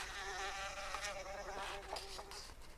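Bees buzzing as a sound effect, a steady wavering drone held close and clear for about three seconds with no voices.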